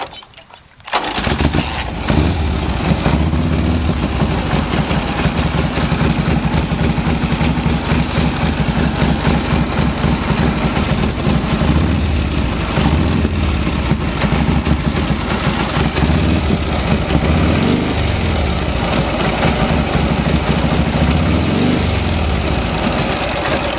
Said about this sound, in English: Nice running motorcycle, John Eagles.